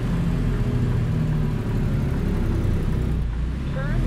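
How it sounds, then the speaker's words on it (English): Truck engine braking in American Truck Simulator on a Montana interstate, a steady low droning rumble with a mid-pitched engine whir that holds throughout and dips slightly near the end. "An engine brake in it too."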